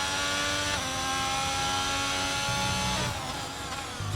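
A Haas Formula 1 car in an F1 racing game runs off through gravel and grass, its high engine whine droning loudly and steadily, with a rough crunching texture and a pitch shift near the end.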